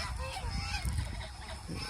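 Geese honk repeatedly over a dense, noisy background, their calls blending into a continuous clamor of birds close by.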